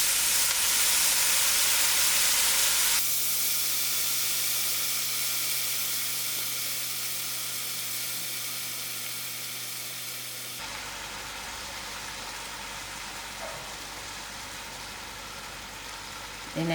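Cabbage hitting a hot stew pot for a spicy vegetable stew, setting off a loud broad sizzle and hiss that slowly fades, with a low hum mid-way and a softer frying hiss at the end.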